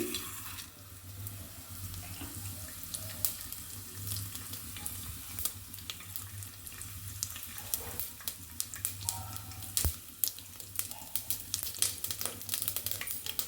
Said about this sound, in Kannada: ಇವಾಗ ನಾನು ಜೀರಿಗೆ ಮತ್ತು ಸಾಸಿವೆನ ಹಾಕ್ಕೊಳ್ತೀನಿ.